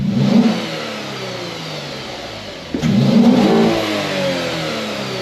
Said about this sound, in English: let's just go ahead and give it a quick couple of free revs for you